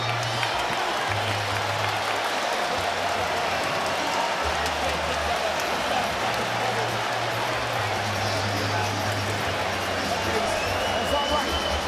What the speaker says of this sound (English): The crowd is trying to hype up their fighter, Jared Anderson.